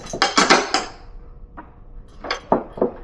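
Metal clanks and knocks as the center pivot of a pulk sled fin is locked down with its lock nut, a quick close cluster followed by a pause and a few more taps.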